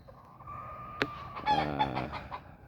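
A white gold hen, a breeding bird that has gone broody, clucks in a few short calls close by, with a sharp knock near the start and no talking.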